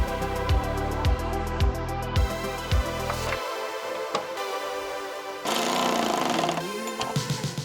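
A power driver drives a test screw into a carbon fiber Z06-style front splitter on a C8 Corvette, giving close rapid ratcheting bursts in short pulses, then a pause and a brief whirring run.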